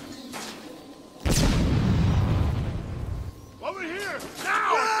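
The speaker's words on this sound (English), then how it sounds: "Grenade!" A grenade blows up in Batman Arkham City with a sudden loud boom and a long rumbling decay, followed by whooshing game effects, and voices can be heard around it.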